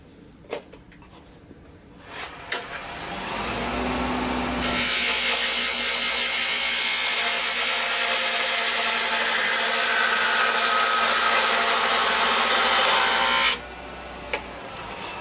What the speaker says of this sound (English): with the finish on the cup, I'm going to part it off